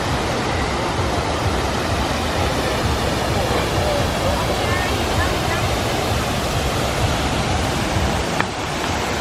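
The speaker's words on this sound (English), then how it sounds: "They even have their own falls." Artificial waterfall at Disney's Wilderness Lodge resort, a constant loud rushing of falling water, steady throughout.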